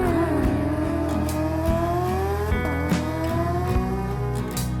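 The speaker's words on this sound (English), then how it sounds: "The unmistakable roar of the Lamborghini engine blends in with the sound of the wind" A Lamborghini supercar engine roars loud and close, a rich rising and falling howl with sweeping pitch changes through the gears and gusts of wind noise, sustained without speech for nearly five seconds.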